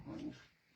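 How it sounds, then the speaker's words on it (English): Dogs play fighting indoors, a short burst of close growling and barking that fades out within a second. "Those are my dogs. They're just fighting. Play fighting."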